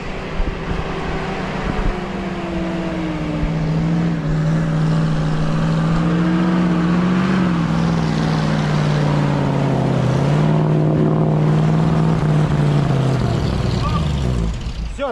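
A GAZ-66 truck drives off-road, its engine droning loud and near for the whole stretch, the pitch rising and dipping with the throttle, with a few voices faintly underneath.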